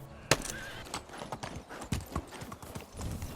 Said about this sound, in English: But as you can see, the horse is going fast.